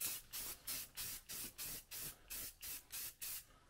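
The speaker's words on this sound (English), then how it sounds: "We're just using the rattle can of Rust-Oleum." Rust-Oleum self-etching primer sprayed from a rattle can onto an aluminum sterndrive propeller, heard as about ten short, evenly spaced hissing bursts with brief pauses between them, close and clear with no talking.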